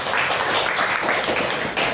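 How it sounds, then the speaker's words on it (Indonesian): An audience claps steadily at an Indonesian religious talk about fasting, a dense, even patter of many hands that stays fairly close and loud for about two seconds with no break. "boleh tepuk tangan."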